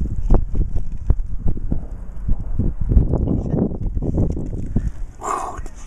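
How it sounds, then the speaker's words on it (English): Wind buffeting an outdoor microphone, with low rumbling gusts and bumps throughout and a brief hissy burst near the end; a voice speaks faintly. "Fucking wind"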